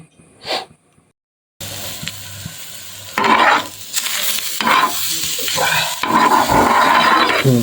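Food frying in a pan with stirring: a brief scrape early on, a pause, then steady loud sizzling broken by bursts of scraping and stirring strokes, up close.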